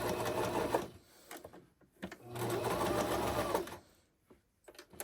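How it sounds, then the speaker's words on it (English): A sewing machine stitches fabric for a patchwork Christmas bow in two close bursts of rapid whirring, with short pauses and faint handling between them. "So I'm going to start sewing, like I said, just down at the bottom here."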